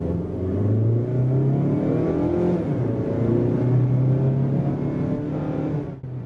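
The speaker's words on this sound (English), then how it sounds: "that engine sounds happy, right? You can hear it kind of growling a little bit" A 2020 Mazda CX-30 engine revs and growls steadily as it accelerates from a stop, its pitch rising through the gears, loud and close with no talking.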